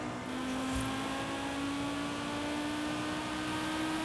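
A car engine in the racing game Forza Horizon 5 hums at a steady, sustained drone with a constant pitch, loud and unbroken throughout, with no talk over it.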